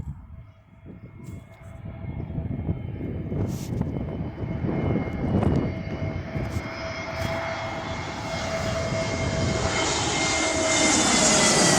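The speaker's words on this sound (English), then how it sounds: "we've got an Airbus A319 or 20 flying" An Airbus A319 jet airliner roars overhead, its broad engine rumble swelling steadily louder with a rising high-pitched whine as it nears, with no talking.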